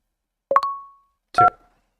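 Two short touch-tone keypad beeps ring out clearly on an automated phone menu while a caller dials an option. The presses are close and separated by a brief silence.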